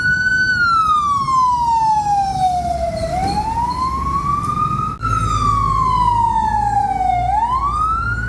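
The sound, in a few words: fire truck sirens in Bangkok street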